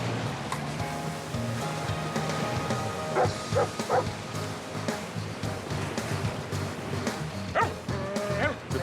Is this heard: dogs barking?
yes